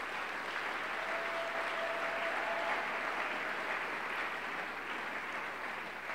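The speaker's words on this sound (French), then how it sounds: "On peut acclamer la parole de Dieu." Church congregation applauding in steady, dense clapping that fills the room for the whole stretch, with no voices standing out.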